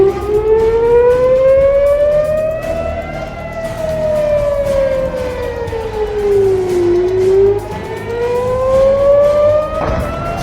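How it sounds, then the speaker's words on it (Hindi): Civil defense warning sirens wail across Israel, one loud tone slowly rising and falling in pitch, with fainter distant sirens layered underneath and a constant noisy background. "वैसे ही पूरे इजराइल में चेतावनी के सायरन बज उठे।"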